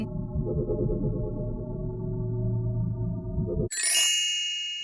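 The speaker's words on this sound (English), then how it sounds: "Like add a bell right here or something." A bright bell ding rings out clearly and alone with a long shimmering decay, following a sustained low tonal hum that cuts off abruptly just before it.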